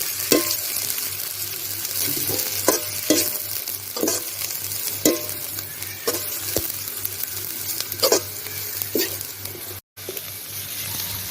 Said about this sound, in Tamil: நல்லா வதங்குற அளவு கிண்டி விடுங்க.